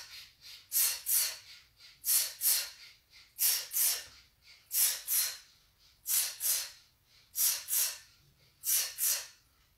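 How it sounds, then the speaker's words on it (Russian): Heavy, rhythmic breathing during a joint gymnastics exercise session, paired forceful inhales and exhales repeating steadily about every second and a half, close and clear with no talking. "Дышим, дышим."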